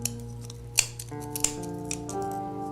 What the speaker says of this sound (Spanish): Vamos a cortar con tijera